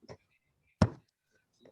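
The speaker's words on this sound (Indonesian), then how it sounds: "Suara klik mouse kayaknya." A single sharp click, close and fairly loud, between brief bits of quiet speech.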